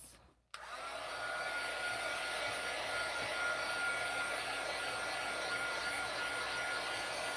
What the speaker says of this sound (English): I am going to hit it with my heat gun for half a second because, like I said, we are heat embossing this.